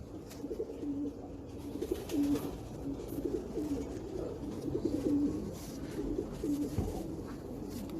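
Racing pigeon cooing nearby in repeated soft, throaty phrases at a steady rhythm, with faint background noise between calls.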